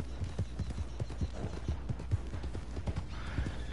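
Horse hooves pounding in the western video game Red Dead Redemption 2, a fast, steady galloping rhythm of clear, close thuds with a whinny mixed in, and no talk over it.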